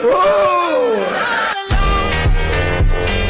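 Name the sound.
crowd of boys shouting at a political speech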